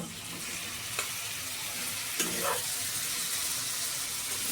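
Cooked chicken with turmeric frying in a pan, a constant loud sizzling hiss with a few brief spoon scrapes and taps as it is stirred, no voices.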